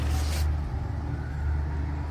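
A bus passes on a road in an English town, a low, steady engine rumble and road noise with a brief airy hiss at the start, moderately close and continuous.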